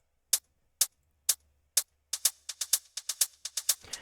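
Open hi-hat from a melodic house track, struck in sparse single hits that then quicken into a busier pattern, each bright hit trailed by echo repeats, played alone and moderately loud.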